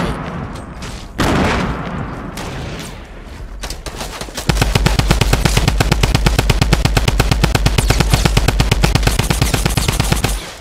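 Drum gun in Fortnite Battle Royale firing a long, loud automatic burst of rapid, evenly spaced shots, preceded by a few scattered single gunshots and rumbling booms.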